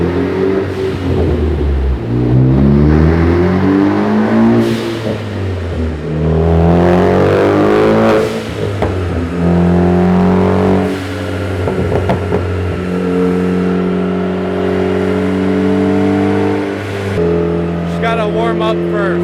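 A tuned Ford Focus ST revs hard on a Dynojet dyno, its engine note sweeping up and falling back several times, loud and close, with voices talking over it.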